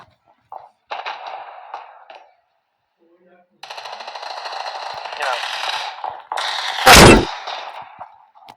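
Gunfire in the mobile shooter game Standoff 2, with sustained bursts of automatic fire and one loud close blast near the end, heard alone with short gaps of silence between bursts.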